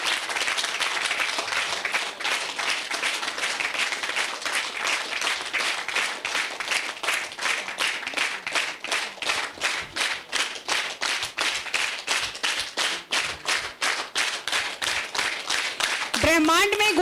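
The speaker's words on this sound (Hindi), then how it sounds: "तालियां बजती रहे।" A spiritual festival crowd claps in unison, sharp regular beats repeating steadily for many seconds at close range, with a brief swell of voices at the very end.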